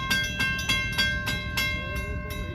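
A Christmas train approaches, loud and close, with a sustained horn or whistle tone over a steady rhythmic clatter of wheels on rail joints, repeating about every third of a second.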